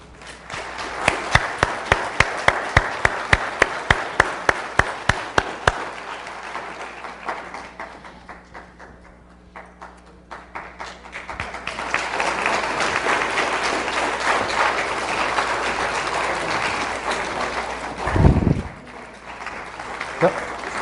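Audience applause welcomes candidates onto the stage at a municipal candidates forum in Malden, starting with separate distinct claps that swell into steady, dense clapping from the crowd, fairly loud and sustained, with a brief louder thump near the end.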